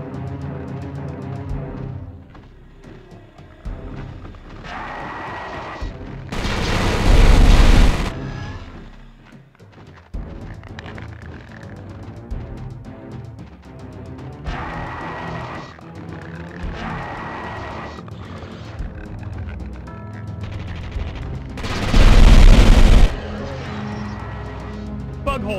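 Troops firing guns in the game Starship Troopers: Terran Ascendancy, with dense bursts of gunfire and booming volleys swelling twice into loud sustained fusillades, mixed with rumbling and shouted voices.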